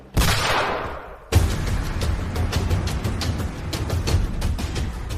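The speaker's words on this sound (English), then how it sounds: "Each evasive move met with gunfire." A gunfire sound effect from an armed interception of a vessel at sea: a sharp loud blast, a brief lull, then a rapid continuous volley of shots.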